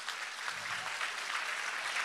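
An audience applauds warmly in a hall at a Pontic Greek association event in Reutlingen honouring the mayor, with steady, dense clapping throughout.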